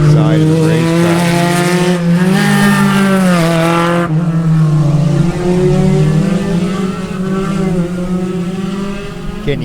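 Loud Spec Racer Ford race car engines scream past at Sebring in an SCCA race, pitch sweeping as each car goes by, with a roaring buildup and fading drone afterward.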